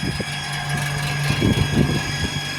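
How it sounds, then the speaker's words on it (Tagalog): A newly installed air conditioner compressor pump runs continuously, giving a close, steady mechanical hum with a constant drone and some irregular low thumps layered over it. "Naririnig niyo yung mga idol yung aking kinabit na pump."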